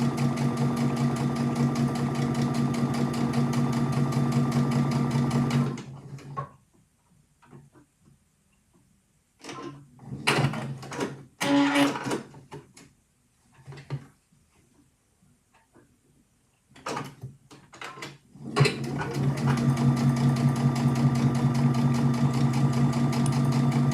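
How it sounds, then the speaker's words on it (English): A sewing machine runs steadily, stitching a line down the edge of a fabric piece for a hanging loop, a buzzing whir that stops for a quiet stretch of small clicks and handling before resuming. "sew a line of stitching down the edge of this piece that I'm making for the hanging loop"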